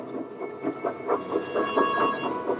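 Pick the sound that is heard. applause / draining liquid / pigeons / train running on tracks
train running on tracks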